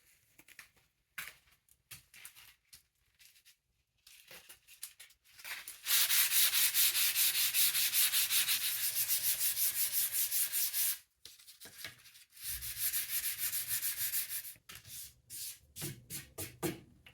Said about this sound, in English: I'll sand it with 220 and see what it looks like.